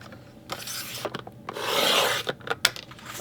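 Patterned paper being cut to 6 inches on a craft paper trimmer, heard as a few close, dry rasping and scraping strokes with a longer sliding rasp in the middle, with no talking.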